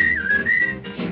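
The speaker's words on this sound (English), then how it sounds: "whistling" A person whistles a bright, clear melodic phrase in a 1941 film, loud and close, with a short pitch dip partway through.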